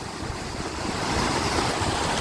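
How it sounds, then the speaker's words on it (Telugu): Floodwater rushing over a road at Nagiripenta, Santhabommal: a steady, heavy roar, continuous, loud and broadband, with a gusty wind-like texture and no voices. "ఆ సైడ్ నుంచి అయితే వాటర్ బీభత్సంగా అయితే వస్తుంది"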